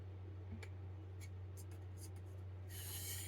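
Light, pressure-free strokes of a Farberware chef knife across a soft Arkansas whetstone, a faint scattered rasping and rubbing over a steady low hum, with a brighter hiss near the end.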